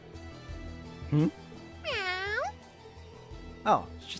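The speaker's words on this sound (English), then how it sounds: "Oh, it's just a cat." Cat meowing in the video game Trails into Reverie, three separate meows with the middle one long and drawn out, set over quiet game background music.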